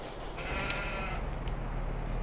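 Sheep in the Farming Simulator video game bleat in a couple of short, nasal calls over a low ambient farm hum, with no talking.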